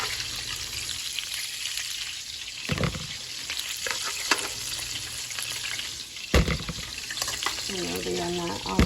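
Food frying in a pan sizzles steadily for several seconds, close and continuous, with brief stirring scrapes and a trickle of water near the end.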